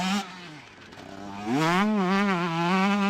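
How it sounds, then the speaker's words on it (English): A 125cc two-stroke racing motorcycle screams through a chicane, its engine note dipping as the throttle closes then rising sharply back to a loud, buzzing high-rev wail as it powers out of the turn. "Just throwing that bike round the turns. That's why we love 125s right there."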